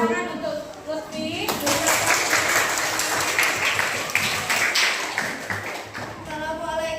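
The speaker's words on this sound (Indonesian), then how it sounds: "Tepuk tangan untuk Lutfi." An audience applauds a presenter at a teacher performance assessment in a classroom, dense close clapping that starts after a brief voice and lasts several seconds before speech returns at the end.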